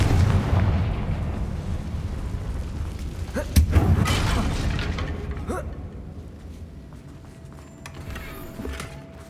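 A Confringo fire spell blasts in Hogwarts Legacy, a loud booming explosion near the four-second mark that rolls off into a low rumble, with a few softer impacts before it and quieter game ambience after.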